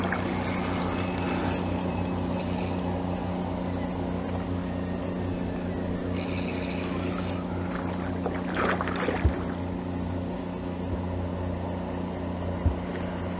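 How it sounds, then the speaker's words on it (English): A boat passes along a river beside a fishing spot, its steady low engine drone running throughout with a brief swell of water noise midway and faint clicks near the end. "Had to happen just as the boat was coming down"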